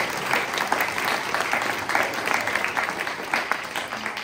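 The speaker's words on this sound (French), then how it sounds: "vous pouvez aussi les applaudir" An audience applauds volunteers at the autumn arts salon opening at Espace Gérard Philipe in Fronton, a dense, steady clapping from a crowd that carries on for several seconds at an even level.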